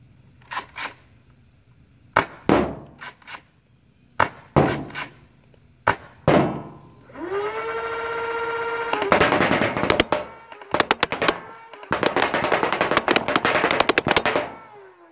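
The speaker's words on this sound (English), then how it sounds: "let's load some rounds up into this thing and go have some fun shooting it." An Arctic Wind gun fitted with a Twinshock Khaos unit fires in short clicking bursts and single sharp snaps, with a rising mechanical whine in the middle and then longer rapid-fire strings near the end.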